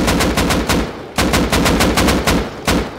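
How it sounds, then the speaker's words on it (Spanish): Rapid automatic gunfire from the survival game Rust, loud and close, firing in several sustained bursts with short gaps between them and no talk over it. "donde estás oyendo los disparos"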